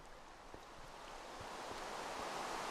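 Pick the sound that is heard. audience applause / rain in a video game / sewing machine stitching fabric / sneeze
rain in a video game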